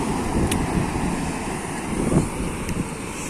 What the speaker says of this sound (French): je me rapproche de la furie des vagues.